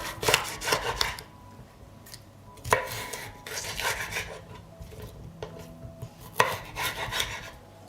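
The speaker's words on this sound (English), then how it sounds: "I cut the cleaned pepper into thicker fillets." Knife cutting cleaned peppers into thick fillets on a board, with a few crisp slicing chops in short bursts separated by quieter rubbing and handling sounds, close and moderately loud, no talking.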